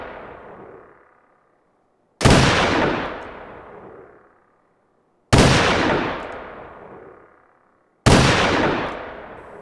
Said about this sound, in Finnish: Rataolosuhteissa kaikilla aseilla on turvallista ampua